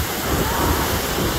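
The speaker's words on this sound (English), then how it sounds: "And these waves are huge." Large Gulf of Mexico waves breaking on Pensacola Beach, a steady, loud, close wash of surf roaring throughout with wind buffeting the microphone.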